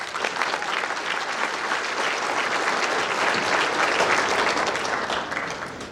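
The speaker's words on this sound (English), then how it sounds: "Another round of applause." A crowd at an MLK Jr. Unity Breakfast held by an Alpha Phi Alpha chapter claps in a dense, full round that swells slightly mid-way and then tapers.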